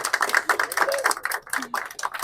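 Scattered, uneven clapping from a small crowd at a prize-giving ceremony, sounding like quick rapping taps rather than a full ovation, fairly close and continuous for a couple of seconds.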